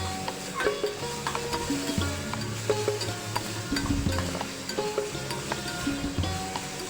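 Vegetables with oregano and salt are stirred in a hot pan for khakhra pizza, a soft sizzle under quick, rhythmic spoon scrapes and metallic clinks against the pan.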